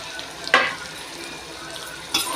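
A kilo of chicken tumbles into onions frying hot for a Christmas chicken biryani: a continuous oily sizzle broken by two sharp stirring scrapes, close and fairly loud.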